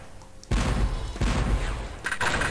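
Rocket blasts fired in the PS1 video game Spyro Year of the Dragon, a loud burst of explosive booms starting after a short quiet lead-in, with a second blast about two seconds in.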